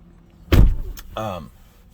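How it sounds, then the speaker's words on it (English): On a Tesla, the interior door button is pressed: a loud thud and whirring motor as the window glass drops slightly, then a second mechanical hum and rattle as the door unseals, close up with no talking. "when you push that, the glass lowers a little bit, it unseals the door, and then you can get out"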